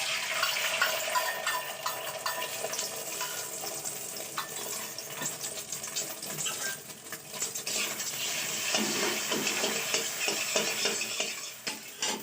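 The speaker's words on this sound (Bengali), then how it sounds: "তো আমি আবার কড়াইটা বসিয়ে দিয়েছি, তাতে একটু তেল নিয়েছি। তারপরে ডিমটা ভেজে নেব।" An egg fries in hot oil in a wok, a steady sizzle with scraping and stirring clatter running throughout at close range.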